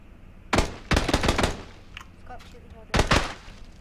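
Gunshots in a battle royale video game ring out in sharp clustered bursts: one shot, a rapid string of several more, then another pair a moment later, loud and close.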